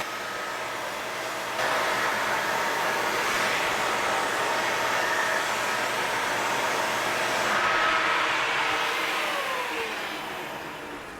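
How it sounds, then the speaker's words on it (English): A vacuum cleaner runs continuously with a steady loud whirring hum while sucking dust from the grills of a smoke alarm, its pitch shifting slightly as the nozzle moves, with no speech. "Vacuum all your grills and it should go off."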